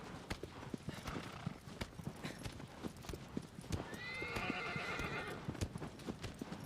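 Horse hooves clip-clop steadily in Shadow of the Colossus, a continuous close trotting patter joined partway through by a loud, wavering neigh from the horse.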